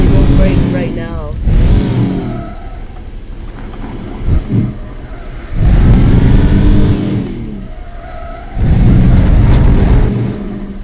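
A car engine in Teardown revs in three separate surges, each climbing loudly, then dropping back to a lower idle between them, with some talk in the background.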